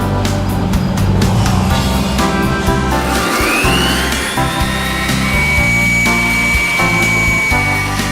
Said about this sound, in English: First, some wood is selected. Then it's cut using a special saw.